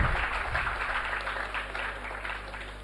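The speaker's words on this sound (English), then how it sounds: "Let us have a big round of applause for them." Audience at a higher education initiative event gives a round of applause, a soft, steady wash of distant clapping over a constant electrical hum.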